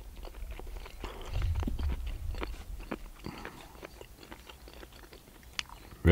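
Close, quiet chewing of chewy fire-smoked trout, with soft wet bites and small crunches repeating over several seconds and a low thump near the middle.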